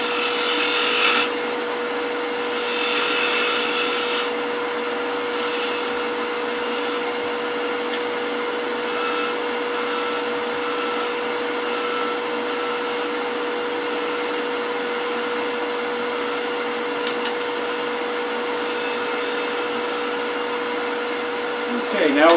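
Wood lathe turning a long spurtle spindle with a Scottish thistle handle, giving a steady whirring drone with a constant tone throughout, close and fairly loud, with no talk over it.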